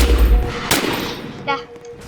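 Rapid gunfire bursts in the Roblox game Survive the Killers Area 51, sharp cracks and a short fusillade near the start, with a voice speaking over the game sounds.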